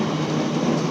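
A Disney PeopleMover train passes right alongside at close range, giving a steady, loud rolling rumble with a low hum, continuous through the whole moment with no talk.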